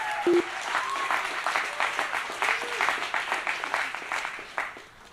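A live audience applauds at a demonstration of a pig carrying a brain implant: a full round of steady clapping with a few whoops, tapering off toward the end.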